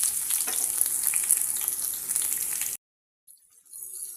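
Chopped onions hitting hot oil in a pan, a loud, bright sizzling hiss that runs steadily close up, then cuts out abruptly before a quieter sizzle returns.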